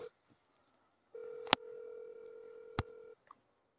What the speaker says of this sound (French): Je vais lui donner mon coup de fil.